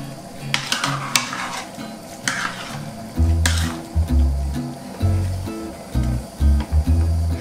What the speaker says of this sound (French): Je vais mélanger.